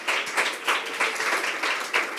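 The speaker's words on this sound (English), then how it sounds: "Clap, clap, clap." Audience at a green-transition debate at Nature & Climate House giving a short round of clapping as the next speaker is introduced; crisp, uneven hand claps swell in several quick pulses, fairly close and without talk.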